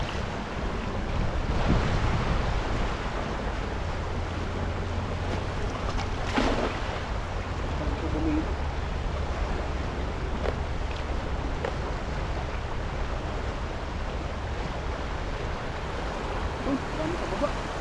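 Strong river current rushing steadily near a fish-holding stretch, a broad continuous wash of flowing water with wind buffeting the microphone and faint voices underneath.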